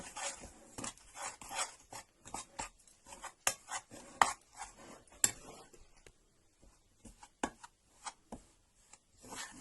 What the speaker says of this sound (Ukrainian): Бистро перемішую, перемішую.